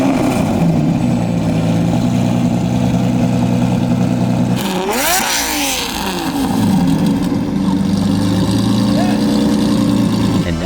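A Lamborghini Murciélago V12 with a gated manual gearbox is started and settles into a loud, steady idle, with a sharp blip partway through and continuous close engine drone throughout.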